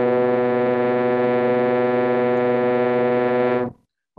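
A horn tone resynthesized by a variational autoencoder, sounding as one steady, loud, harmonically rich sustained note for about three and a half seconds before cutting off abruptly into silence.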